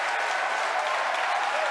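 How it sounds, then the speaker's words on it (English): A crowd cheers and applauds at booster separation during the SpaceX Falcon Heavy Arabsat-6A launch, a loud, continuous wash of clapping and cheering with no breaks. "if you can hear me over the cheering"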